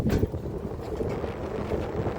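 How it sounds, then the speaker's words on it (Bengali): Strong sea wind on the shore at Kuakata buffets the microphone in a continuous low, rumbling roar, with no voices. "আমার কথা বোঝা যাচ্ছে কি না জানি না কারণ হচ্ছে সমুদ্রের তীরে বাতাস বেশি"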